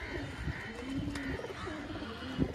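Pigeons coo softly in low rolling calls close by, with scattered small knocks and shuffling sounds around them; fairly quiet overall.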